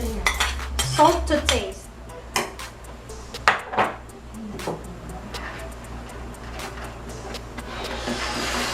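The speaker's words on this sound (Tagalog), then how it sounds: "continuous stirring" A spoon scrapes and knocks against a cooking pot while ginataang laing, taro leaves in coconut milk, is stirred continuously; the clanks come in irregular bursts, close and clear, and a voice speaks briefly.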